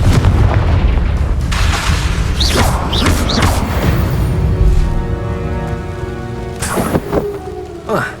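Booming spell blasts from the Confringo curse in Hogwarts Legacy hit in quick succession, several sharp whooshing impacts over rumbling game noise, with a voice shouting among them.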